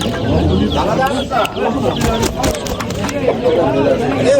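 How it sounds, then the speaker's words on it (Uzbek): A large rooster at a poultry market clucks and calls close by while people talk loudly over it in a crowded space. "Yirik xo'roz ekan."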